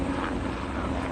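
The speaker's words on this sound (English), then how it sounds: "Helicopter." A helicopter passes overhead, giving a continuous droning, thrumming engine and rotor noise that stays steady and fairly loud throughout.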